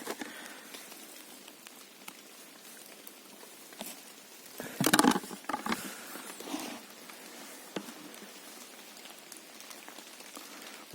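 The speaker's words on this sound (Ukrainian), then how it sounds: "накрапує дощ" Light rain patters in scattered drops on leaves and forest ground in Khmelnytskyi Oblast, Ukraine, soft and sparse, with a brief rustle of movement partway through.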